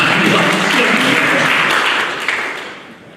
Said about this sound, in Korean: 이쯤 나오면 박수 좀 쳤어야 될 거야